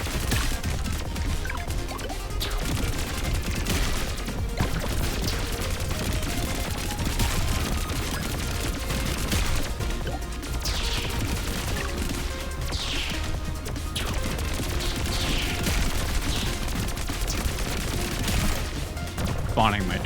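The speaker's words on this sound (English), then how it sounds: "Spawning my little turret." A turret fires nonstop in the video game Pathogenic. Dense rapid gunfire mixes with crashing impacts and busy game effects, loud and continuous throughout.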